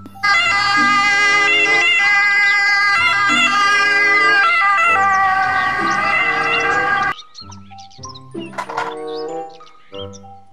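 A toy ambulance blares a loud, electronic wailing siren with a steady repeating warble for several seconds, then cuts off, leaving small plastic clicks and rattles.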